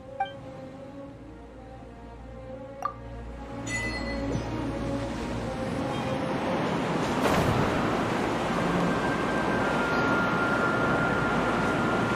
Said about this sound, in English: Look, a wind current!